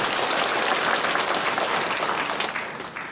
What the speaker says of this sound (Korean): 주님 아래 감사의 박수 한번 드립시다.